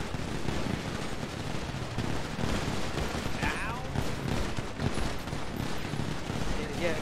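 Rapid bursts of video game gunfire crackle in dense, overlapping volleys from a Mafia-style crime shootout, loud and continuous with shouting voices mixed in.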